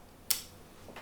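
Sony A7R IV camera shutter in electronic front curtain mode during a 1-second exposure: a sharp faint click, then about a second later a softer second click closing the exposure, in a quiet room.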